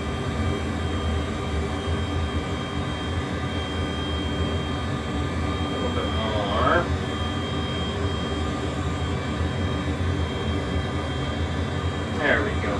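A-10C Warthog jet engine drones steadily in a flight simulator game, a constant even roar filling the background while the throttle is eased back; a voice talks briefly over it.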